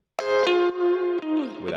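A funky electric guitar part from an Ableton mix, with Haas-effect widening: sustained bright chord tones that slide and restrike, loud and close.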